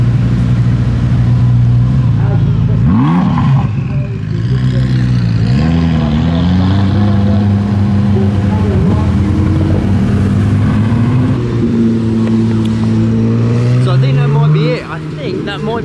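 Hypercars and supercars drive down a runway at a supercar festival, loud engines droning and revving as several cars pass close by, rising and falling in pitch, with a crowd talking underneath.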